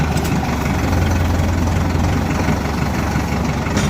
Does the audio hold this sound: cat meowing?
no